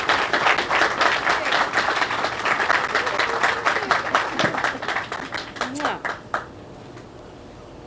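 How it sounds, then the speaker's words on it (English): A crowd claps and applauds in welcome at an outdoor ribbon cutting ceremony for a behavioral health crisis center, a dense, steady burst of clapping that thins and fades out toward the end. "can we please celebrate and clap a warm welcome to Nira Tandy"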